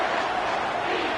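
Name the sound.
football stadium crowd cheering for the defense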